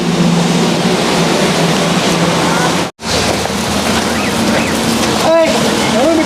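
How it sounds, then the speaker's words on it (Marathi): Heavy rain falls on a farm in a loud, continuous hiss that stays steady throughout, with a person speaking briefly over the downpour. "आता सध्या पाऊस चालू असल्यामुळे"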